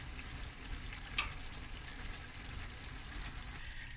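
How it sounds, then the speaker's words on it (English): Peeled potatoes cut in quarters go into a big pot of lamb akhni, bringing a steady faint sizzle and bubbling with one brief sharp clatter partway through, quiet and without voices. "now I'm going to add my potatoes"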